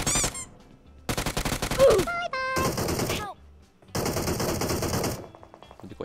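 Bursts of gunfire in a shooter video game, including sniper shots, arriving in several separate loud clusters with gaps of near silence between them, mixed with short electronic tones and game effects.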